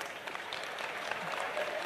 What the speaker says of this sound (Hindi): बिटिया जोरदार ताली बजाओ।